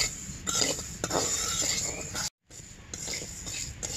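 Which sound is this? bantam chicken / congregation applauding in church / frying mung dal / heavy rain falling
frying mung dal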